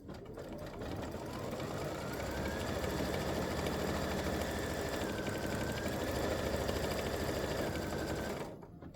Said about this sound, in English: so now it's going to stitch the second placement, the second feather's placement line